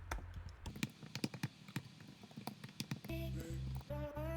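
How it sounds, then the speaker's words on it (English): Fingers tap out the letters A to Z on a computer keyboard in a quick, uneven run of crisp clicks. A sustained tonal hum takes over near the end. "we're gonna type from A to Z."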